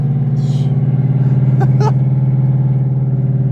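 An Audi S6 with a swapped ZF8 transmission driving, its engine droning in a steady loud hum heard from inside the car, with a couple of brief clicks over it.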